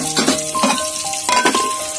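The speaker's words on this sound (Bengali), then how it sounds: "এদিকে বেগুন ভাজা হচ্ছে" Eggplant slices frying in a home kitchen pan give a steady close sizzle, with a few brief stirring and utensil clinks over the crackle.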